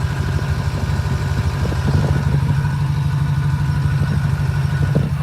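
A Ford 6.0 PowerStroke diesel engine cranks hard and long without firing, a steady loud low rumbling churn running without a break, close by and with no talk over it.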